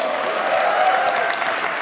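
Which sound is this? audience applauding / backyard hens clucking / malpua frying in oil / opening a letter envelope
audience applauding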